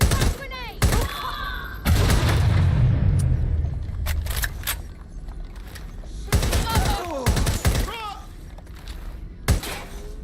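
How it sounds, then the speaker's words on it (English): Gunfire and a frag grenade blast in Watch Dogs Legion, sharp bursts of shots and booming impacts in separate loud clusters, with voices shouting between them. "Releasing frag grenade!"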